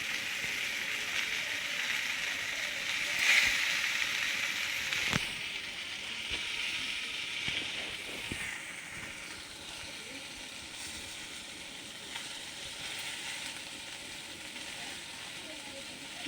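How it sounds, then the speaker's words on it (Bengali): Potatoes frying in a pan with ginger paste stirred in, heard as a steady, moderately loud hiss and sizzle throughout, with a few brief scrapes and knocks near the middle. "আলুগুলো ভাজা হয়ে এসছে, ওর মধ্যে আমি এই আদা বাটা দিয়ে দিলাম।"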